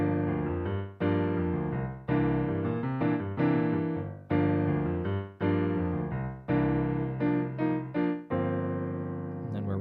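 Solo piano plays the quick intro to a song, a run of bright, rhythmic chords and melodic phrases that stop and restart in short bursts, close and clear with no voices.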